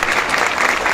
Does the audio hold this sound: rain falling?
no